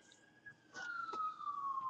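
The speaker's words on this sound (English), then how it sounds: "the sirens, the police car has left us" A police car siren wails in a long, gradually falling tone, fairly faint and steady at first, then joined by louder background rumble and brief clatter as it carries on.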